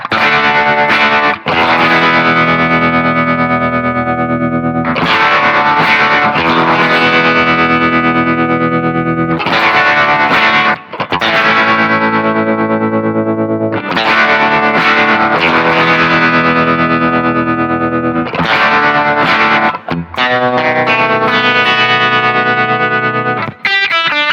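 Rickenbacker 330 electric guitar played through an old pedal board, loud chords ringing out in several sustained strums with short breaks, heavily effected with distortion and a slightly noisy hiss.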